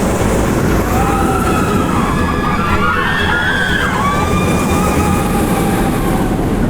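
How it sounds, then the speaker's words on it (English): A Time Traveler roller coaster train at Silver Dollar City roars loudly and steadily over its launch track into the brake run, with a continuous wash of wheel and track noise and rising whine throughout. "Here comes the train over the launch and into the brake run."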